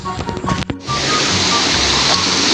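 Water flows along a channel toward a river, a continuous rushing wash that follows a burst of brief knocks and handling noises at the start, close and fairly loud.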